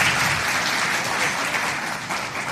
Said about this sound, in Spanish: vamos a darle un fuerte aplauso a Melqui Pérez